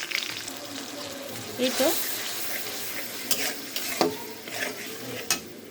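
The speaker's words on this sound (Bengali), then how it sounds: "এটা আমি হালকা ভেজে তারপরে মশলাগুলো দিয়ে দিব।" Chopped onion sizzles lightly in a pan for a radish and potato curry, a steady close hiss with a few stirring scrapes and clinks, and a brief spoken remark partway through.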